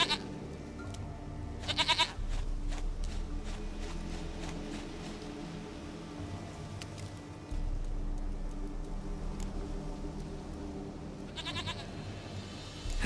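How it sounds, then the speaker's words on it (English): A goat in Witcher 3 bleats in short wavering cries, two clear calls standing out above a steady low game ambience with faint background tones between them. "Goat of mine! Dearest, sweetest goat!"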